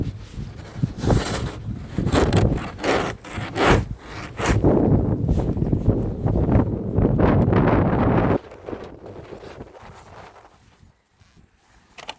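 Strong wind buffets the microphone in loud, gusty rumbles for about eight seconds, then drops to a softer, steadier blowing, outdoors on a snow-shoveled sidewalk.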